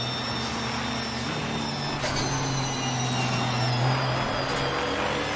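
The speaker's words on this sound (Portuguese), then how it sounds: "Então tem o som do motor em si, tem o som do carro, tem tudo que tá acontecendo ali dentro." A GT4 race car in Assetto Corsa Competizione holds a steady engine drone with a low harmonic hum and high whine, rising slightly mid-lap, alone and at a constant moderate level.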